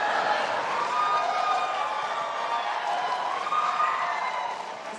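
A steady, dense wash of applause from the audience at the second 2016 presidential debate between Hillary Clinton and Donald Trump continues throughout at an even level.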